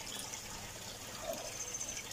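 Water spills from a fish tank over into the first settlement tank of an aquaponics setup, a soft, steady trickling pour at low level without any voices.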